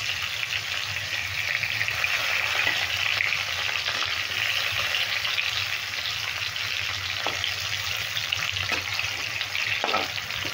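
Pieces of pointed gourd (potol) frying in a pan give a steady, loud, close sizzle with a few faint clicks as the pieces are turned.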